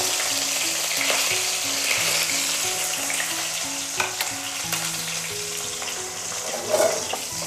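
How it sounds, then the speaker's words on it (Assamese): Onions sizzle and crackle steadily in a hot pan, with a few soft clinks of a utensil stirring; no voices. "এতিয়া মই পিঁয়াজখিনি ধুনীয়াকৈ ভাজি ল'ম"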